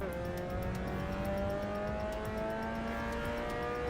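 A race car engine in the Assetto Corsa EVO sim holds a steady high drone with rising harmonics while the tyres are warmed up, loud and continuous throughout with no voices.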